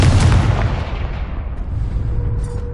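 Explosive fire-spell blasts from the Confringo spell in Hogwarts Legacy, a loud booming burst at the start that rolls off into a crackling, rumbling decay with lingering effects, no talk.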